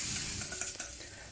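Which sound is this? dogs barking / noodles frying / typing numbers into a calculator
noodles frying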